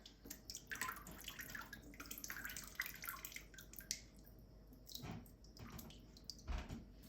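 Excess water drains and drips from a paper pulp mould lifted out of a vat during handmade papermaking, irregular splashing trickles and drips close by, fading to quieter patters.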